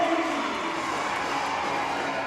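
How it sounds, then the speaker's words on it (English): A basketball crowd on senior night roars and cheers steadily for a player getting his first start, a loud, dense wash of voices filling the gym. "And listen to the crowd pull for him."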